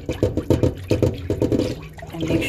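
Coquito with vanilla extract and rum stirred in a container, a quick rhythmic series of soft sloshing, liquid swishes close up, about a dozen strokes with no talking.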